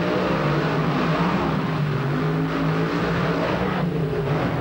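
Monster trucks roaring down a drag-style race lane at a 1995 event in Lima, engines at full throttle in a loud, continuous blare with a steady low drone.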